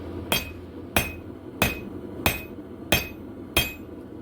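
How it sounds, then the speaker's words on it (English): A hammer strikes hot metal on the edge of an anvil in a forge, drawing the metal out: six sharp, ringing blows spaced evenly about two-thirds of a second apart, close and clear. "put it on the edge of the anvil and hit it right there"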